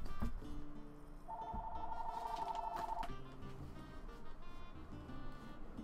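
A telephone rings in a room, one short electronic trilling burst of about two seconds, faint and set against a quiet background hum with no talk.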